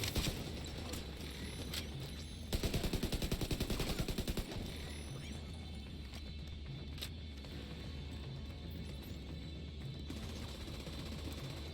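Gunfire in The Division 2, a loud continuous background of shooting with a clear run of rapid, evenly spaced shots in the middle and steady combat noise throughout.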